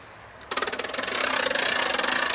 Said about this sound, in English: the handle slides in, and now we can start winding up